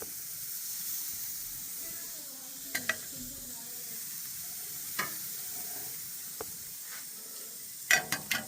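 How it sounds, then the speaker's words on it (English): A steak sears on a grill with a faint, steady sizzle and hiss, broken by a few sharp clicks and taps, with some quiet talk in the background. "I'm going to sear it maybe a minute."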